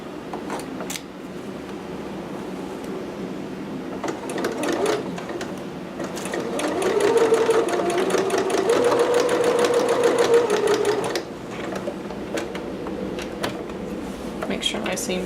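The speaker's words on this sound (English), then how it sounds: "And then keep sewing" A domestic sewing machine stitches a dress seam in a steady, rapid mechanical whir that speeds up mid-way, then stops. Quieter handling noise and a voice are heard around it.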